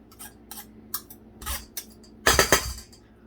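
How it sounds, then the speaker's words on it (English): Two knives cutting shortening into flour in a bowl, a quiet close series of irregular metallic clinks and scrapes, with a louder cluster of clatter near the end, no talking. "Some bakers like to cut their shortening in using 2 knives"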